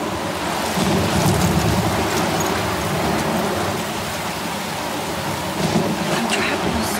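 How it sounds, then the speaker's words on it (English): A steady downpour from a thunderstorm in the video game Life Is Strange, dense rain hiss throughout with low rumbling thunder swelling underneath, loud and continuous. "I'm trapped in a storm?"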